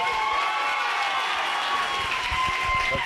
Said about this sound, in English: The crowd making some noise.